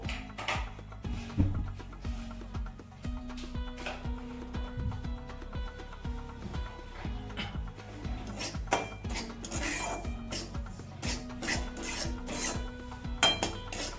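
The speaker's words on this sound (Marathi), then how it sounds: "आता रवा आपला भाजत आलाय" Semolina roasting in ghee is stirred in a pan, giving continuous scraping and rasping strokes with occasional light clinks of the spoon against metal.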